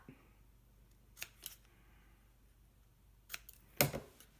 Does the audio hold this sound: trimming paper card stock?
yes